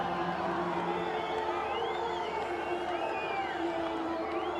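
Cricket fans roar and whoop in a stadium at a Shpageeza Cricket League match, a steady dense crowd din with whistles and shouts rising through it, held loud and continuous throughout.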